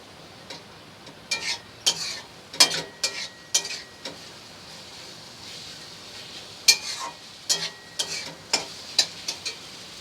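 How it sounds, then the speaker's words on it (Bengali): An egg and spice mixture fries and gets stirred in a pan, with a faint background sizzle broken by bursts of sharp scraping and clattering strokes from a utensil, some clustered close together, others spaced apart. "এবার ওই যে মিক্স করাটা ছিল সেটা আবার ভালো করে ভেজে নেওয়া হবে"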